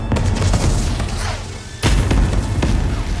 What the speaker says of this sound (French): Putain, mais arrête de tout faire péter dans la baraque là!